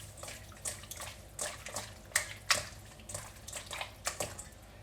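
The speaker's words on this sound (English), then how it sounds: "Now we're going to give this a nice mix." Wet squishing and sloshing as marinated chicken for Japanese karaage is mixed with black pepper by hand, a close, irregular series of soft slaps and squelches with no talking.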